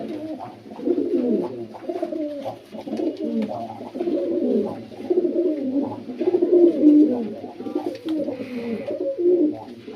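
Paired pet pigeons coo continuously close by, a run of low, rolling, repeated calls over ten seconds with brief pauses between phrases.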